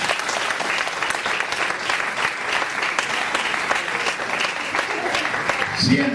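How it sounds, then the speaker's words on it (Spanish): A church congregation claps together in sustained, steady applause filling the room, dense and loud throughout, with a voice briefly heard near the end. "Den un aplauso al Señor."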